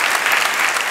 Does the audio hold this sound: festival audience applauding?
yes